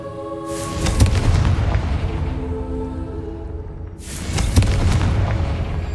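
Two deep, booming blasts from the Confringo blasting curse in the Hogwarts Legacy video game, each a loud broadband burst with a rumbling tail, the second arriving about three seconds after the first over a steady game background.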